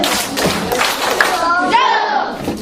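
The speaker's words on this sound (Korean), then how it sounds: "자, 집중박수 시작." Children in a church class clap together in a quick rhythmic attention pattern, close and fairly loud, with children's voices chanting over and after the claps.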